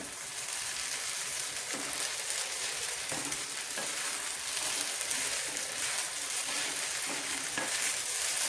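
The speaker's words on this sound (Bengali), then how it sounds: "আবার আমি কড়াইয়ের ঢাকাটা তুলবো, তুলে খুন্তি দিয়ে আবার এটাকে নাড়াচাড়া করব।" Sago pulao stirred with a spatula in a wok: a steady close sizzle of frying grains with periodic scraping strokes of the spatula breaking through at irregular intervals.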